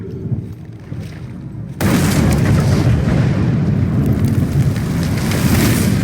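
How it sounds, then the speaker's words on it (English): A large explosion in an Evil West video game cutscene erupts suddenly after a quieter stretch, then becomes a sustained, loud, rumbling roar of blast and debris that fills the rest of the scene. "Now that is how you shape an explosion."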